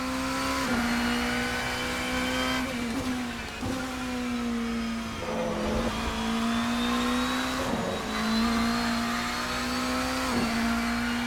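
Porsche 963 race car engine in Assetto Corsa at Le Mans, a loud continuous droning whine that rises through the revs and dips briefly at each gear shift, with no talk.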